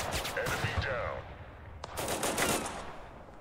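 Bursts of automatic weapon fire in the war game Total Conflict Resistance, rattling volleys near and mid-distance separated by a brief lull, fairly quiet overall.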